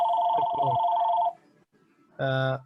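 A telephone rings loudly and close by in bursts with a steady tone, pausing briefly before sounding again, while a voice talks over the first ring.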